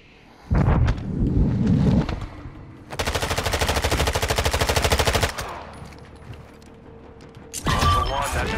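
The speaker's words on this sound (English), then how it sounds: "Taking effective fire!" Gunfire in the video game Call of Duty DMZ, during an exfil in a heavy chopper: a close, loud sustained machine-gun burst with rapid even rhythm, flanked by heavy impacts and rotor-like rumble.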